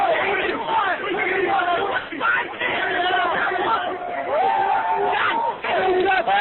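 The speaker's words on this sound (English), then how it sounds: "The crowd's went crazy." A large crowd roaring and yelling together, loud and continuous, with voices rising and falling in waves.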